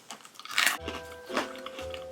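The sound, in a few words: crunching freeze-dried Skittles candy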